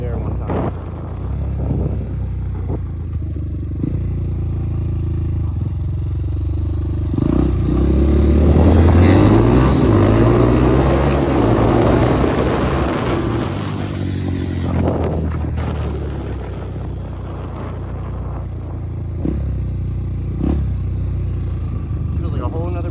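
A Magician 250 motorcycle riding on new tires, its engine droning close and loud with rising and falling revs through the middle, rattles and scrapes mixed in, and someone talking over it.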